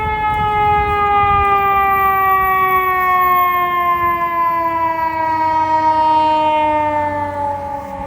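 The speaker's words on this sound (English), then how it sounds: "There's never no ambulance and none of that shit coming past around this time, man." An ambulance siren wails loud and close, its steady descending tones sliding lower as the vehicle passes by, sounding alone with no voices.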